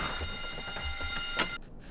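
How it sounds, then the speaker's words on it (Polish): A steady high-pitched electronic alarm tone in the video game Medal of Honor: Allied Assault rings continuously with faint thuds and background noise beneath, then cuts off abruptly. "znowu załączyli ten alarm"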